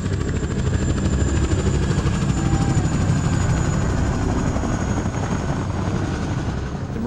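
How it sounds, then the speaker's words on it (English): Military helicopters fly in a group, a steady loud rotor drone with a constant engine whine over it, close and unbroken for several seconds. "The eight remaining helicopters head straight for Koh Tang."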